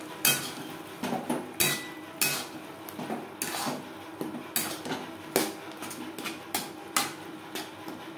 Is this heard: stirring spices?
yes